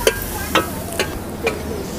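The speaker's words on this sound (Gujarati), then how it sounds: "અત્યારે શાક બને છે." Moong bean curry being stirred in a pan, with a few sharp scrapes of the spoon against the pan about every half second over a soft cooking hiss.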